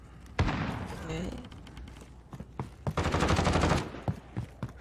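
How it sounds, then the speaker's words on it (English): Bursts of FAL rifle gunfire crackle through Modern Warfare game noise, with a sustained burst near the end and scattered single shots, alongside game voices and effects. "Heard gunshots."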